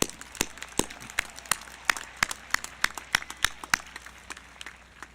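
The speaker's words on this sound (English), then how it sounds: "Give them a round of applause." Applause from a graduation crowd at a 2021 high school ceremony: sparse, uneven individual hand claps close by, with a light background of more distant clapping.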